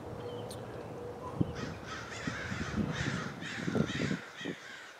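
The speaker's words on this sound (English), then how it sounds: "500 crows are just in this field to my left." Many crows caw from a field, a flock of about five hundred, the harsh calls fairly distant and overlapping above steady outdoor background noise.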